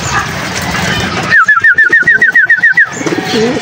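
Pigeons in a home loft give a quick run of about a dozen evenly spaced, bright calls lasting under two seconds, close and fairly loud over a soft background hum.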